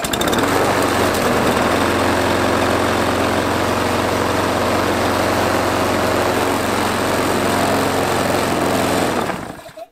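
A lawn mower engine runs loud and steady close by, droning with a rough vibrating buzz for several seconds before cutting off abruptly at the end; the mower has a known bad shake.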